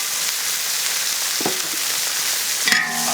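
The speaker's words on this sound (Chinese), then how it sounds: "再下入黄鳝" Eels added to chopped chili paste stir-frying in a wok, a continuous loud sizzle close by with a few scraping stirs and a utensil clink near the end.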